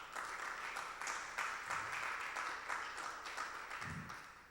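Church congregation applauding during an evening worship service, a steady, moderately loud wash of clapping that lasts throughout with no talk over it.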